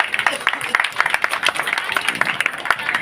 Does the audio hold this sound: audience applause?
yes